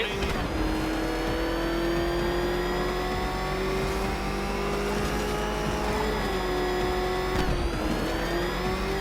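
A car engine with a rough, ramshackle motor drones and revs steadily at high speed, its whining pitch rising slowly and dipping briefly as it races along, loud and continuous.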